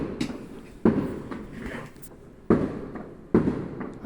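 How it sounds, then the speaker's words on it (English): New Year's fireworks bursting in repeated loud booms, three sharp detonations each followed by a rumbling, crackling tail, with scattered fainter pops between them. "I have never seen anyone spend so much on New Year's fireworks before."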